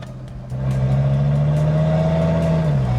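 Volkswagen Golf R fitted with an Audi RS3 engine cranks and fires up after a brief quiet moment, then settles into a loud, steady, rising idle drone with a couple of revs, heard close with no talk.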